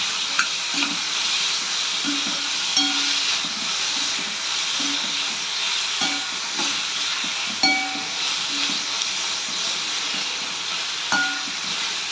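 Chopped onions frying and being stirred in a pan for tomato sambal, with a continuous hiss and sizzle broken by repeated spoon scrapes and taps against the pan, heard up close without speech.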